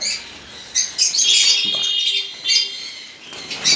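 Lovebirds at a breeding farm chirp and squawk in sharp, shrill bursts, several calls overlapping close by with short gaps between them and a faint thin whistle running underneath.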